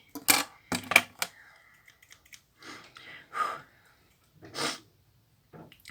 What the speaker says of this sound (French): En plus, je renifle comme une dégueu.